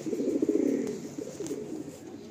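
Andhra pigeons coo inside a loft, soft throaty rolling calls repeating close by over a quiet background.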